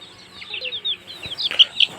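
Hens cluck softly in a small backyard flock at nearby brooding boxes, a short run of close, breathy clucks and chirpy calls that rise toward the end.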